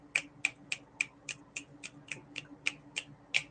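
Crisp finger snaps land in a steady groove, about twelve sharp clicks at roughly three per second, close and alone against a quiet background with a faint low hum.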